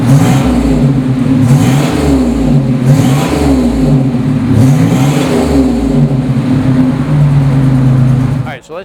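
A 1987 Buick Grand National's fuel-injected engine runs loud and close, holding a steady idle with slight pulsing, then cuts off abruptly at the end; someone talks over it.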